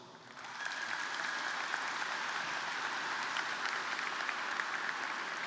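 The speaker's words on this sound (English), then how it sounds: "Graduates, please take a moment to express your appreciation for these people with your applause." Graduates at a high school graduation ceremony break into applause, a broad, even roar of many hands clapping in a large space that swells within the first second and holds steady.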